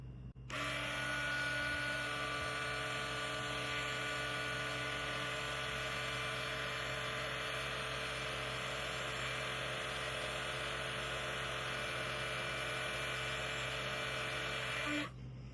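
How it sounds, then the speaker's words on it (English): A heat gun runs steadily while shrinking heat shrink tubing around wire on a banana plug, a loud continuous blowing whine with a steady hum, switching on and running about fourteen seconds before cutting off. "we'll turn on the heat gun, and we'll let the tubing shrink up around the wire"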